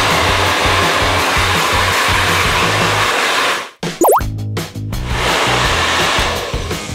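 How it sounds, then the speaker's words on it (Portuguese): A loud hair dryer blows steadily while drying hair to make it straighter, roaring close up, cutting out briefly for about a second and then returning at full strength, with no talking. "E a segunda dica na hora de secar, gente, puxa o cabelo pra frente, ó. E seca de trás pra frente."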